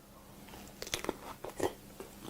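Someone bites into a piece of crunchy fudge, giving a few quick, close crunching bites, with chewing noises between them and no talking.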